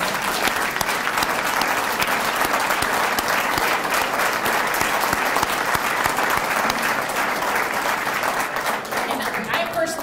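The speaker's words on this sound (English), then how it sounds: "So just a round of applause for Hal, Pal, and Chris." Sustained audience applause at a police athletic league conference, a large crowd clapping densely and evenly at moderate loudness throughout, with faint voices mixed in.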